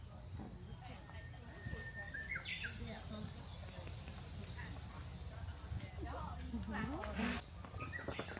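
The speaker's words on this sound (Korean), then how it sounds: "새소리 들려?" Faint bird chirps and short tweets come and go in the distance over low outdoor rumble and quiet voices.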